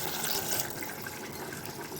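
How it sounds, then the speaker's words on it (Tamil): Water gushes steadily into a pan of cooking vegetables, a continuous close pour filling the vessel. "இப்போ இதுக்கு தேவையான அளவுக்கு வந்து நம்ம தண்ணி ஊற்றிக்குவோம்."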